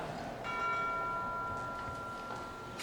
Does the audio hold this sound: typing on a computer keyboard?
no